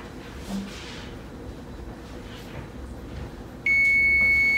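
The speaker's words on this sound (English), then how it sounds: "All right, the oven is beeping." An oven beeps in a home kitchen while meatloaf, mashed potatoes and green beans cook, a steady electronic tone sounding over low room noise after a quiet stretch.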